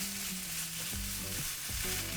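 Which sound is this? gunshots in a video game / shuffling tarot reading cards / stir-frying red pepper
stir-frying red pepper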